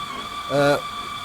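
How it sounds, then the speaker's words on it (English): Steam whistle of an LNER A2 Blue Peter locomotive in Train Sim Classic, one short sustained harmonic blast of under half a second rising out of a steady hiss and a constant background tone. "Just giving a big whistle so everybody knows we've arrived"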